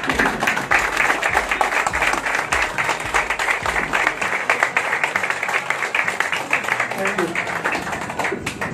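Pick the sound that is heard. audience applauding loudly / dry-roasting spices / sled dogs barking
audience applauding loudly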